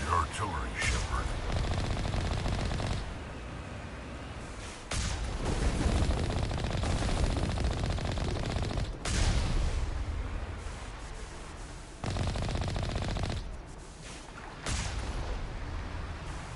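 Artillery in Mass Effect 1 Legendary Edition fires in heavy, repeated bursts, loud sustained volleys broken by sharp cuts and short pauses, with voices talking over parts of the barrage.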